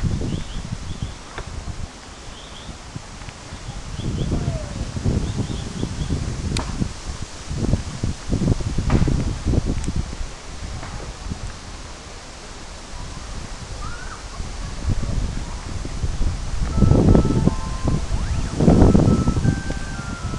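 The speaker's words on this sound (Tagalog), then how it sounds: "Po, sobrang lakas ng hangin." Strong gusts of wind rush and rustle through bamboo in waves, with creaking and swishing rising and falling over a steady outdoor roar.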